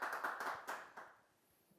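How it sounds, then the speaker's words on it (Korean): A brief burst of audience applause thanking a lecturer after a history talk, a handful of quick claps that quickly die away into quiet room noise. "감사의 박수 부탁드립니다"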